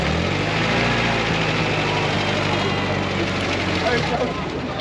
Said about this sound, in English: helicopter just backing up